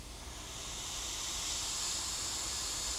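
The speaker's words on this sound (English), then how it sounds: "Right up next to where the steam is." Hot steam hisses steadily and close by, a broad, continuous rushing noise that swells slightly and holds at a constant level throughout.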